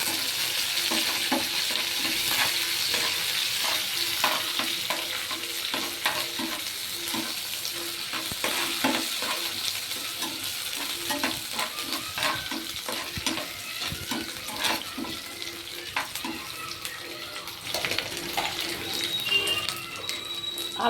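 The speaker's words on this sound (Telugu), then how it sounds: "కొద్దిగా కరివేపాకు తాలింపులో వేసుకోవాలి" Curry leaves sizzle in hot tempering oil for a Telugu ugani dish, a continuous crackling hiss with scattered pops and occasional stirring scrapes, at moderate level and without talk.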